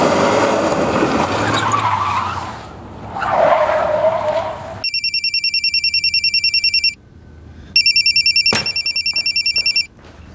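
A telephone rings in two bursts of bright electronic trilling, loud and close, after a stretch of tyre-skidding car noise.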